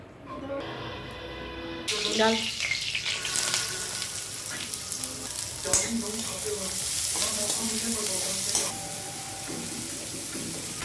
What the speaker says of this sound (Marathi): आता ती भेंडी चिरून भाजी करणार आहे